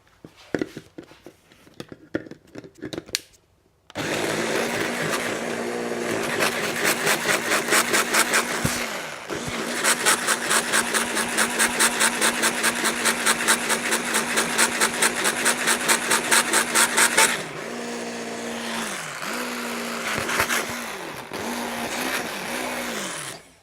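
A blender running on its turbo setting, whirring through a vegan hotdog mix seasoned with cumin: a loud, steady motor roar with a faint pulsing rhythm, briefly cut off and restarted, then dropping to a lower hum near the end.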